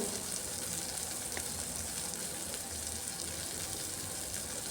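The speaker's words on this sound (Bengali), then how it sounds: "আদা পেঁয়াজ সব একসাথে হালকা করে ভাজবো" Ginger and onion frying together in oil for a chicken dish, a steady soft sizzle running evenly throughout, close and fairly quiet, with no voices.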